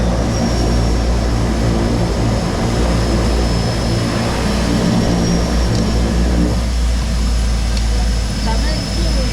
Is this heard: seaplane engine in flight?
yes